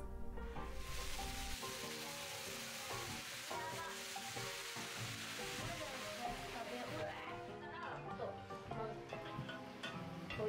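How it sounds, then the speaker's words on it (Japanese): Hot water splashes over homemade gyoza frying in a pan, setting off a loud, steady sizzle that crackles continuously throughout, with background music and a voice in the mix. "焼き色がついたら上からお湯をかけます。"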